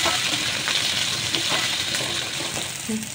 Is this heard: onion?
yes